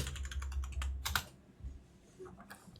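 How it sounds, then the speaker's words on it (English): Rapid clicking keystrokes on a computer keyboard, typed in quick bursts with short pauses between runs, close and moderately loud over a low background hum. "I'm typing it in the chat."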